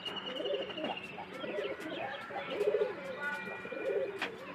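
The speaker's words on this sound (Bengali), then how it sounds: "এই হলো আমার বর্তমান কবুতর।" Domestic pet pigeons coo in soft, rounded bursts that repeat several times, close and fairly quiet, over light background noise with a few faint chirps and clicks.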